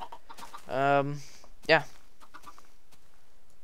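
Minecraft chickens spawned on a Bukkit server give a couple of short clucking calls, the first longer and the second a brief squawk, in a quiet setting, with a voice speaking briefly.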